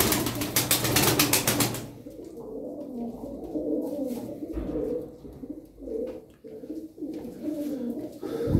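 Pigeons kept as fancy and costume birds, including a frillback-type cobra male, coo in repeated low throaty phrases, close and continuous, with a burst of wing flapping at the start.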